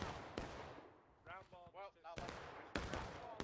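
Musket gunfire in the Civil War battle game War of Rights, with sharp, loud shots at the start and several more bursts later. A voice shouts in between the shots.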